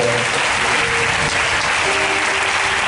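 A church congregation applauds steadily and loudly for the Lord, dense clapping filling the whole moment without a break, with faint voices mixed in underneath.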